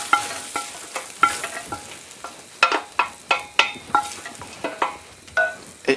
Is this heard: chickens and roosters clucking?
no